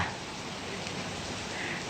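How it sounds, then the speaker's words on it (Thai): Heavy rain falls as a steady, even hiss, fairly faint and unbroken throughout, with no voices. "ฝนตกมาพร้อมกับสายฝนจ้า"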